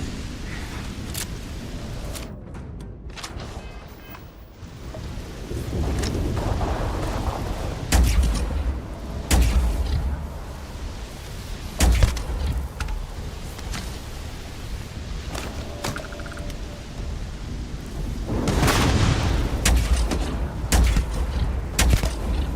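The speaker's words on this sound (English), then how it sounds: "Got some kind of fucking launcher, dude." Launcher blasts and gunfire from a Starfield firefight crack and boom repeatedly over about twenty seconds, with heavy low thumps, sharp transients and rolling rumble between them.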